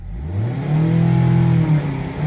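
A 2020 Mazda MX-5 engine revs in a short, close burst. Its pitch climbs, holds briefly, then eases off, with no talk.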